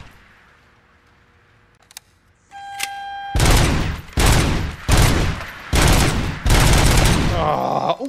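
Gunfire in the Robocop: Rogue City video game erupts after a few faint clicks, bursting in five loud sustained volleys separated by short gaps, close and harsh.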